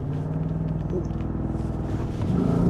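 A 2023 Audi RS Q8 performance luxury SUV holds a low, throbbing engine rumble against the brakes before launch, the note steady and close, then rising and swelling sharply as it begins to pull away at the end.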